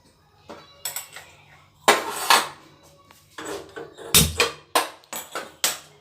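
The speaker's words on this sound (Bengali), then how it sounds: "এবার দুধের কড়াটাকে বসিয়ে দেবো।" A milk pot is set down on a gas stove with a series of sharp metallic clanks and knocks, several loud close impacts spread unevenly over a few seconds, with faint background hiss.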